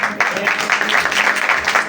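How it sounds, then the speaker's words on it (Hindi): Church congregation applauding, a dense continuous wash of many hands clapping at close range, with a voice speaking over it. "जोरदार तालियां दी खुदा के कलाम के लिए, खुदा के वादा के लिए।"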